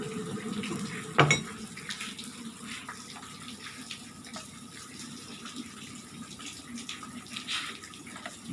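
Freshly boiled water pours for drip coffee as a faint, steady trickling stream, with a brief clink of a kettle or cup near the start and no speech.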